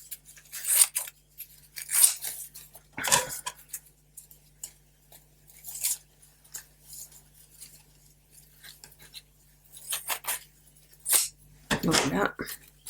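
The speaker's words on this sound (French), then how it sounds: "je vais prendre des ciseaux" Scissors snip through a paper napkin, cutting it into pieces in a series of sharp, close cuts at an uneven pace, heard alone without talking.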